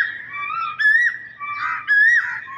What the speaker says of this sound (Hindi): ये कोयल की आवाज़ माशाल्लाह